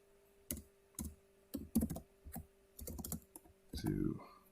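Fast bursts of computer keyboard typing, clustered clicks close to the mic with short pauses between groups, while code parameters are entered in a Kotlin programming lab.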